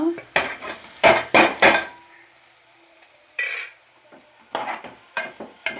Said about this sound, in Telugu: ఉల్లిపాయ ఏగిపోయింది ఇప్పుడు మనం బంగాళదుంప వేసేసుకుందాం